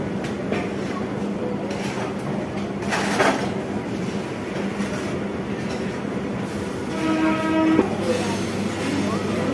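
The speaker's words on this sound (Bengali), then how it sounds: "আমি এই মুহূর্তে রয়েছি 3টে 25-এ রাত কৃষ্ণনগর লোকালে, এটাও 12 বগির ট্রেন।" A 12-coach Krishnanagar local train out of Sealdah runs at night, heard from inside as a continuous rumble with wheel clatter and a brief rising whine near the end.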